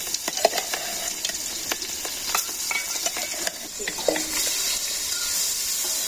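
Salted fish fries in a pan in a Bangladeshi village kitchen, a constant bright sizzle with intermittent spitting pops and occasional scraping stirs.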